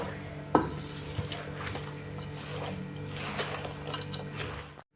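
Zucchini salad being stirred with added oil in a bowl for a winter preserve, giving soft, steady wet scraping and squelching close by, with a sharper clink early on and no talking.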